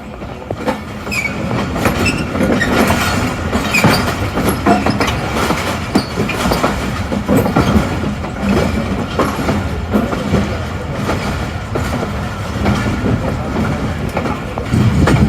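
The 27Up Shalimar Express, running from Multan to Lahore via Faisalabad on a branch line, rolls along the track with a loud, steady roar, rhythmic clickety-clack of the wheels and occasional squeals, heard up close throughout.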